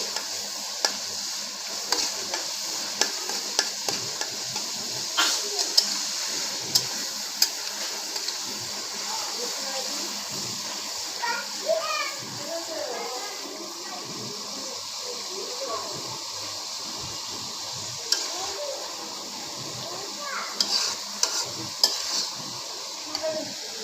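Cumin, spices and onion fry steadily in a pan for a Bengali boal fish curry, giving a continuous soft sizzle with scattered spoon scrapes and taps throughout.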